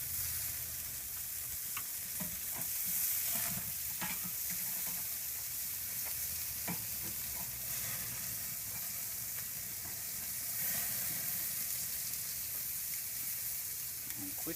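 Venison filets sizzle on a Char-Griller Akorn grill, giving a loud, continuous frying hiss with occasional crackles and pops that stays close and steady throughout.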